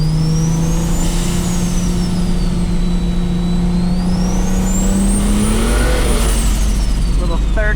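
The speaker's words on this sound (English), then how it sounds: "people are curious about launches with this car" A car with a welded differential, its big single engine revving hard as it launches from a dig on a road, with a steady loud drone rising in pitch, under continuous talk.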